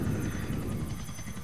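A helicopter flying in the video game GTA IV, its rotor giving a steady low thudding drone with a rhythmic chop, loud and continuous with no talk over it.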